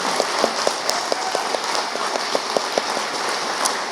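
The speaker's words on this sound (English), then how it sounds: "Big round of applause." Audience applause at a Bharatanatyam arangetram dance recital, steady dense clapping with a few sharp, distinct nearby claps standing out in a fairly loud, even wash.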